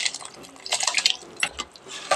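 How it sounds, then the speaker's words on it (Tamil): Soaked jeera samba rice pours into a pot of boiling water with partly cooked chicken, giving a brief scattered patter and splashy clatter, then a louder clunk at the end, close and fairly loud. "நம்ம ஊற வச்ச ரைஸை இதில் போடுறோம்"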